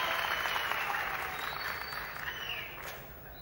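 Studio audience applause for a singer on the Turkish talent show Popstar, a full burst of clapping that starts strong and gradually thins and fades toward the end.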